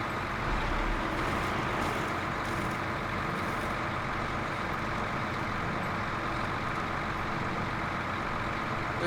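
A truck rolls along a road, heard as a dense, steady roar of engine and road noise with occasional low thumps, constant and fairly loud throughout without any talk.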